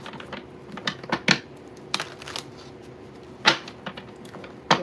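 A deck of tarot cards being shuffled by hand, giving irregular bursts of crisp riffling and snapping with short quiet gaps between them.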